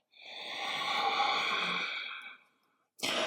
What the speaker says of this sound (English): take a full breath in and a full breath out